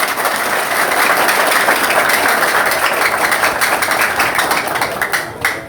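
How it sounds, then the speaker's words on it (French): An audience at a BSAP event in Haiti applauds steadily and loudly, with dense, continuous clapping that lasts nearly six seconds and fades slightly at the end. "Quelques applaudissements pour 2500 gourdes."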